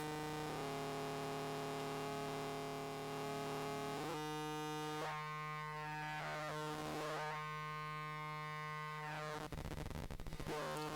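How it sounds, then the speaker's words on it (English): A steady buzzing sine-wave tone run through a Eurorack fuzz pedal turns harsh and fuzzy, its grinding distortion shifting in texture and swelling into a noisy roar near the end. "it gives that nasty, really sharp, fuzzy thing"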